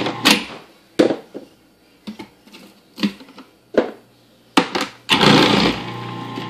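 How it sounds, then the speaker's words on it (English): Blender chopping whole onions for Hippocrates soup, heard as a series of short, loud whirring bursts separated by pauses, then a longer sustained run at the end, with no talking. "an entire onion in. Turn it on. There it goes. One onion done."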